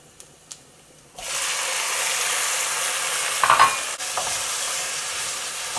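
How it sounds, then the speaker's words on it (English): Tomatoes go into frying potatoes for a potato tomato curry, setting off an abrupt, steady sizzle after a couple of light taps, with a brief stirring clatter partway through, close and without talk. "I'm going to add in the tomatoes."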